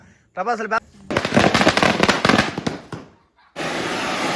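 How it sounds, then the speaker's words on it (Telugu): Rapid crackling bursts of firecrackers go off in a dense, loud volley after a brief voice, then a steady hiss of sparks continues, during Vishu festival celebrations in Kerala. "ఇప్పుడు టపాసులు పెట్టినాం"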